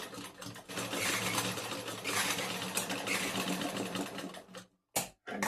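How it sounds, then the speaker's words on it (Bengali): A sewing machine stitching a blouse runs in a steady, fast whirring rattle for several seconds, close and fairly loud, then stops abruptly with a short burst after a pause. "সেলাইটা করে নিয়েছি। এটা তো ডবল সেলাই দিয়ে দেবো।"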